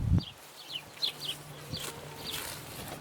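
Chickens near their backyard coop give faint, scattered high clucks and chirps over steady outdoor background noise.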